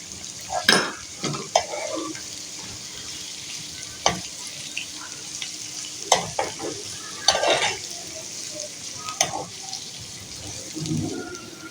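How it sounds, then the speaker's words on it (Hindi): Garlic, onion, green chilies and black pepper frying in oil for a maash dal tempering, a steady sizzle broken by scattered clinks and stirring scrapes of a spoon against the pan, close and moderately loud. "ये अच्छी तरह हम इसको फ्राई करेंगे"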